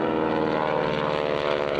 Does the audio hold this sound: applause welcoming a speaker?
no